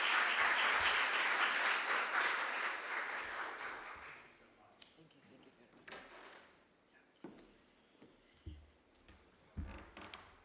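An audience welcomes a professor to the lecture podium with a warm round of applause that fades out over about four seconds. Quiet room follows, broken by scattered knocks and thumps of handling at the lectern.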